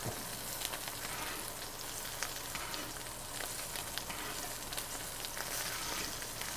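Wagyu steak searing in a hot pan, a steady, dense sizzle and crackle of frying fat running continuously at a fairly even level with no talk.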